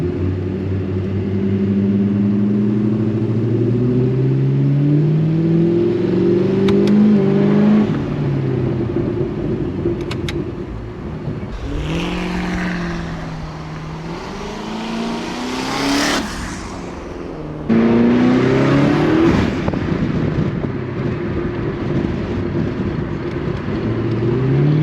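Twin turbo V8 1UZ engine in a Toyota Hilux running on E85, revving hard in repeated rising sweeps with a deep rumbling idle between, loud and close.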